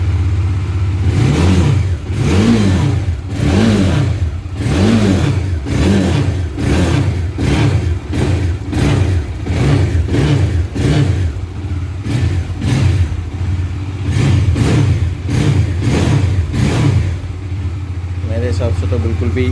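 Bajaj Dominar motorcycle engine revving repeatedly in loud, rhythmic bursts over a steady idle, close by, after a sound-issue fix.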